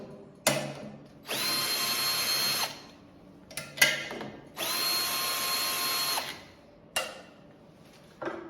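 A power drill backs screws out of the rear of an industrial three-phase electric induction motor, with three sustained high whirring runs of about one to two seconds between sharp clicks and knocks, close and clear.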